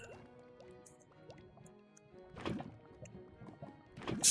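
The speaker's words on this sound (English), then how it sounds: "now I can just keep on cycling through my lava, and it fills up quite quickly" Lava dripping into a cauldron in Minecraft, a few soft liquid drips and plops over a faint steady background hum.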